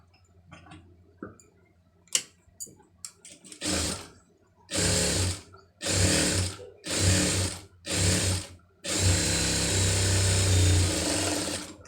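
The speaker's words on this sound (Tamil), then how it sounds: "இப்போ ஸ்லீவை வந்து தைச்சி எடுத்துக்கலாம்" A sewing machine stitches a sleeve in close, loud bursts: a few scattered clicks and handling noises first, then repeated whirring runs of a second or so each, ending in a longer continuous stitching run, with no talking.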